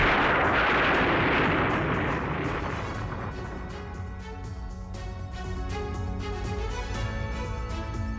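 Mortar fire from Hamas fighters on Israeli tanks in Gaza opens with a heavy, rumbling blast that fades over a few seconds into a continuous roar and distant crackle, loud and without speech.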